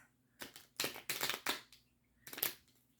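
Playing cards being shuffled in a close, quiet room, several short crisp riffle bursts in quick succession, then a pause and one more burst.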